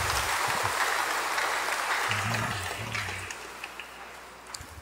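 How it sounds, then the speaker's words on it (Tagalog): A congregation at a Simbang Gabi Sunday Mass claps together, a broad wash of applause that fades toward the end, with a voice briefly heard over it. "Pumalakpak ng malakas."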